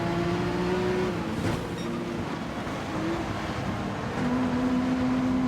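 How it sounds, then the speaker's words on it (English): A Ferrari race car in Gran Turismo 7 drives with a sustained engine drone that shifts pitch between gears, steady and fairly loud, mixed with broad road and wind noise and no speech. "Look at the Ferrari go."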